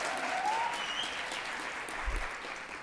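An audience at a nature talk claps and makes noise in a brief burst, moderately loud and filling the room, with a whistle or whoop rising above it.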